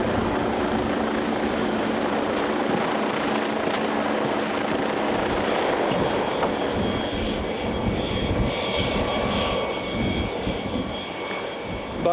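Steady, continuous rotor and engine roar of a helicopter in flight, loud and unbroken throughout, shifting slightly in tone toward the end.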